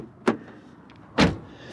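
A BMW coupe's frameless door gives two sharp, close thuds about a second apart, the first as it opens and the second a solid, heavier shut, with quiet ambience between them.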